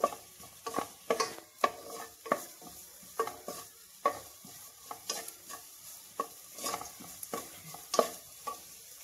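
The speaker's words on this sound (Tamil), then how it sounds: "நல்லா பச்சை வாடை போகிற வரை நல்லா வதங்கட்டும்." Vegetables sautéing with a little salt in a pan, a steady sizzle broken by repeated close scraping and stirring strokes of a spoon against the metal, with no voices.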